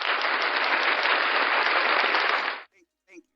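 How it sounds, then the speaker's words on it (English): Audience applause fills the room for about two and a half seconds, a dense, even burst of clapping that cuts off abruptly, followed by a couple of faint, brief sounds in near silence. "let's give her a big applause"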